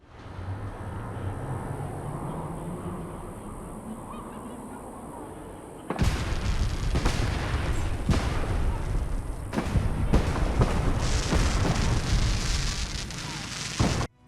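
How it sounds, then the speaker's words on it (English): Fireworks going off in celebration at Fallout 4's Nuka-World park: after a quieter stretch, a dense run of loud bangs and crackling bursts follows one after another, close and overlapping. "We also get some fireworks being set off in celebration."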